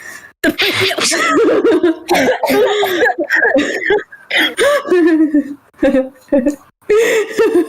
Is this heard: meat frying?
no